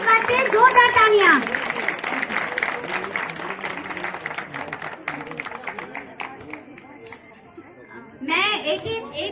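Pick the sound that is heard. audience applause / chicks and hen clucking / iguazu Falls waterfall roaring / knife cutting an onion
audience applause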